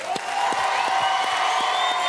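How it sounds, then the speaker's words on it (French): A live television studio audience applauds the Star Academy students with steady, dense clapping and some cheering, while sustained music plays and sharp individual claps stand out. "Vous avez raison de les applaudir"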